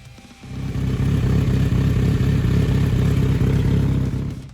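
A Kawasaki Z900 RS standard motorcycle rides past with a close, loud, steady engine drone and rumble that swells quickly and holds for several seconds.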